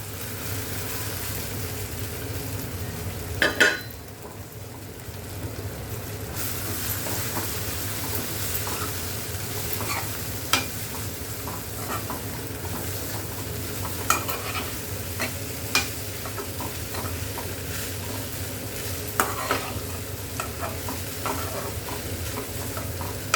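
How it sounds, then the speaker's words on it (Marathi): Washed poha being stirred as it fries in a pan with turmeric, a steady low sizzle running throughout with a few sharp scrapes and clinks of the spoon against the pan. "मी याच्यामध्ये आता टाकते धुतलेले पोहे"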